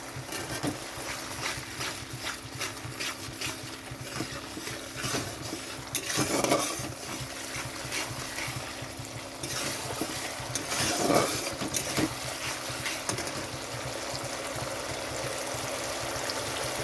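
Cornflour mixed in water is poured into a pan of chilli cabbage and stirred, giving a soft wet scraping and gentle bubbling with a few louder utensil knocks, quiet and close.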